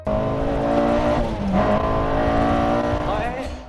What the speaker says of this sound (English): The 4AG is a super responsive, super high revving engine